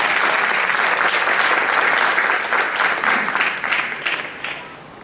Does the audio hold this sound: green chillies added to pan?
no